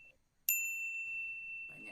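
One bright bell notification ding rings sharply and then sustains a long, fading tone, with faint background murmur at the end.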